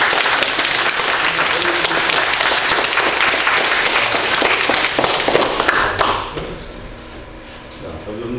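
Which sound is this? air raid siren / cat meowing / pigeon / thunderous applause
thunderous applause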